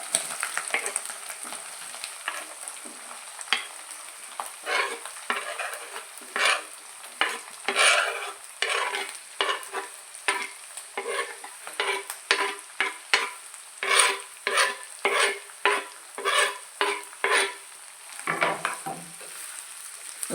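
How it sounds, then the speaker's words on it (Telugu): Onions frying in a pan with dried shrimp, a soft steady sizzle broken by repeated stirring scrapes at an uneven rhythm, close and fairly quiet with no talking. "ఉల్లిపాయలు కూడా బాగా వేపుకోవాలి."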